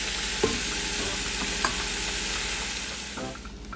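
Italian turkey sausage and chicken chorizo fry in a pan, giving a steady close sizzle with a few faint stirring knocks, then tapering slightly at the end, with no one talking.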